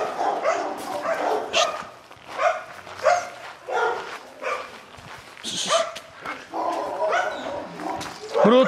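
Several dogs bark and yip in repeated bursts at close range, some whimpering between barks, as a person walks a Chow Chow through the pack; voices talk over the barking.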